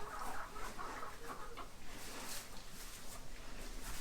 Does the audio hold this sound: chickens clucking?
yes